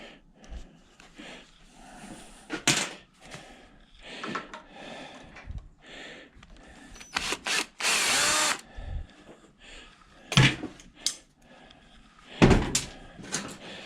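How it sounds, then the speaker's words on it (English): Small screws being worked out of a brass part from a scrapped upright vacuum, with short bursts of a power drill or driver and scattered clicks and knocks of tools and metal pieces between them, close by with no talk. "I think I'll have to hold that with the pliers while I try to get the screw out of there"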